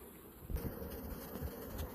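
Honey bees buzz steadily around an opened hive box during varroa trapping, a soft continuous drone with a few low bumps close by.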